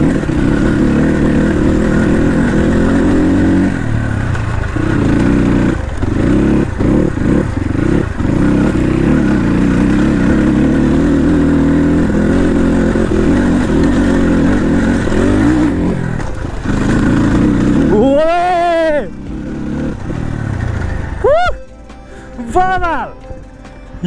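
A Crossfire RM250 dirt bike runs off-road on a trail, its engine droning steadily and close for most of the stretch before the throttle eases and the noise thins near the end; a voice talks over it.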